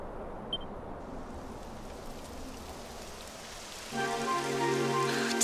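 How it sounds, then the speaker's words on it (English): Rain falls in the Dragon Quest XI video game as a steady, dense hiss of drops, joined partway through by soft sustained musical tones. "It would have to go and start raining, wouldn't it?"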